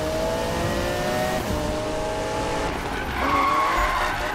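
A car in Need for Speed drifts through a bend, its tires squealing in long wavering screeches over a steady engine drone, with a higher squeal rising near the end; no one speaks.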